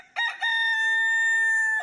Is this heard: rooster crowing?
yes